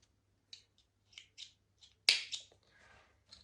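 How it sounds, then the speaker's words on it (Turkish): Scissors snip crochet yarn for a handmade bag, several soft close clicks spaced irregularly and then one louder sharp cut followed by a faint rustle, in an otherwise quiet room. "İpimi birazcık yürütmek için kesiyorum."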